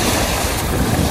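Waves churn and splash under strong buffeting wind, a loud, dense roar with heavy wind rumble on the microphone throughout.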